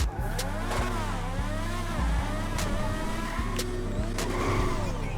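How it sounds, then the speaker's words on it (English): Progen PR4 open-wheel racing car from GTA Online, engine revving and shifting at speed during normal driving, a loud, continuous high-pitched whine rising and dropping in repeated gear-change sweeps, heard alone without talk. "if you guys just listen to it, it sounds like a normal car in GTA, a supercar that is just fast forwarded"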